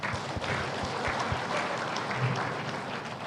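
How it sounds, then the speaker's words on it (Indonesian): Audience applause at a seminar on spiritual community life, dense steady clapping from a crowd filling the room at moderate level with no talk over it. "Kita tepuk tangan dulu."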